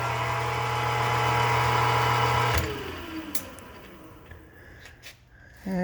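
An Emco Maximat Mentor 10 lathe-mill combination machine spins up from 350 to 630 RPM, a steady mechanical whir that shifts abruptly partway through and then settles into a quieter motor hum with faint clicks.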